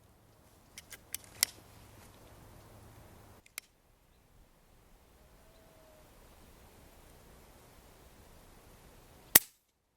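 An FX Crown air rifle fires at an egg target about 90 yards out in a quiet outdoor setting. A few faint clicks come early, then a single sharp, loud crack near the end.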